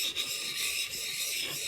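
A bevel-edge chisel rubbed back and forth in figure-of-eight strokes on a sharpening stone, giving a steady close hissing rasp that scarcely stops across the short stretch.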